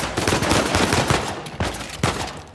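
Bursts of gunfire from blind firing over cover in the video game Uncharted 4, rapid loud volleys of shots that run on without pause and peak sharply near the end, with no talk.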